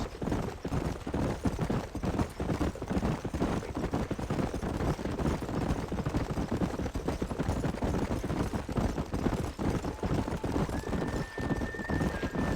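A herd of horses gallops in Red Dead Redemption, a dense, continuous drumming of hoofbeats that stays loud and steady throughout, with a brief whinny near the end.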